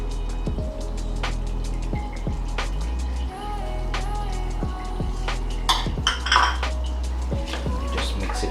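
A spoon stirring breadfruit beef curry in a pot, with repeated metallic clinks and scrapes against the pot sides at an irregular rhythm over a steady low hum; close and fairly loud, no talking.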